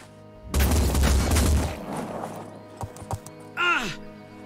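A single loud gunshot burst in the video game Phoenix Point, a broad crack with a rumbling tail, followed by a few small clicks and a short falling creature-like cry.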